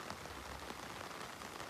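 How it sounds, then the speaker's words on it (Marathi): Heavy rain pours down outdoors by a river, making a dense, even hiss of drops on surfaces that stays steady and loud throughout with no pauses. "खूप जोरात पाऊस आलाय बघा, चेक करा मंडळी."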